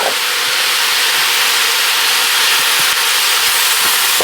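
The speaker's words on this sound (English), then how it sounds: "let's add our shrimp" Shrimp hits a hot pan beside thinly sliced cabbage, giving a loud, steady sizzling hiss that fills the whole moment up close without pause, with no voices.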